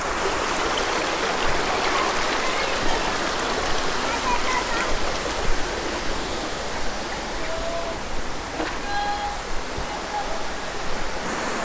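Broadband rushing river water at Philippi, a steady even wash of flowing current with no pauses, heard close and continuous, with a few faint bird calls over it and someone talking lightly in the background.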